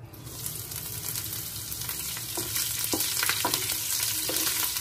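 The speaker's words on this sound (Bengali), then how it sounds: "কালো জিরে ফোড়ন দিয়ে কাঁচা লঙ্কাগুলো মিক্স করে দিলাম।" Green chillies frying in mustard oil with asafoetida and nigella seeds, a steady close hissing sizzle with a few sharp crackles and light stirring clicks throughout, no voices.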